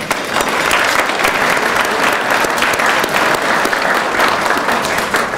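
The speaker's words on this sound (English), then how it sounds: "If we could give them a round of applause." A banquet audience at a university alumni awards dinner claps steadily and loudly throughout, a dense, even wash of hands with no break.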